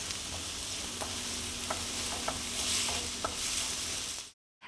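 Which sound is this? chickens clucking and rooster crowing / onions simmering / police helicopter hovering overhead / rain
onions simmering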